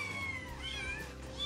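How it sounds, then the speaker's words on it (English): Many cats meow at once, overlapping high wavering cries layered over a dense, noisy background, close and continuous throughout. "That is a lot of cats."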